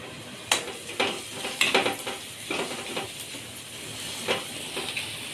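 Spoon stirring fried onions with red chili powder and turmeric in a pan: soft sizzling and hiss underneath, with repeated scraping and clinking strokes against the pan, close and unhurried.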